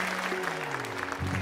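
Audience applause at a live show, a brief dense burst of clapping with a sustained tone running underneath.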